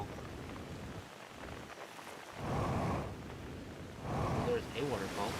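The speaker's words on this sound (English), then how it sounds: "Now that we have a waterfall." A waterfall in the video game Outer Wilds gives a steady, broad rushing wash of water that swells louder partway through, with no voices heard over it.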